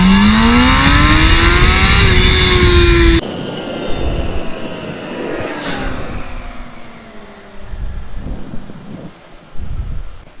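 A Kawasaki ZX-6R Ninja sport bike with a stock exhaust and a Honda CBR 600RR with an Akrapovic exhaust rev loudly, a high rising engine whine at first, then a rougher, more distant roar with passing bursts.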